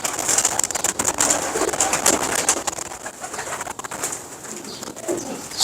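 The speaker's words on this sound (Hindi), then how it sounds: "बहुत ही नया कबूतर" Several pigeons murmur and coo close by, soft rolling calls mixed with light fluttering and bright chirps from other birds.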